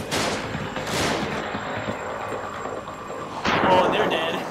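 Grenade blasts in the horror video game The Evil Within: a pair of loud booming explosions in quick succession with long rumbling tails, then a further burst near the end.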